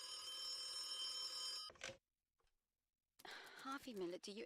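Telephone ringing in the video game The Occupation, an insistent bell ring that stops, then a short silence before a voice begins speaking.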